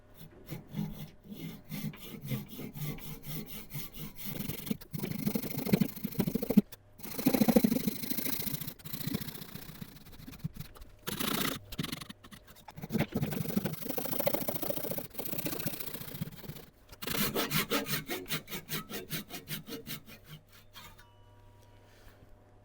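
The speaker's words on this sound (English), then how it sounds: "we'll lock this off and start sawing" Hand sawing through a wooden log locked in place, in rhythmic back-and-forth strokes, coming in several bursts separated by short pauses, close and fairly loud.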